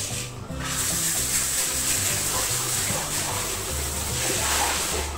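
Water streams steadily from a newly installed bathroom shower faucet, a continuous close hiss of spray that barely changes across the clip, with no talking.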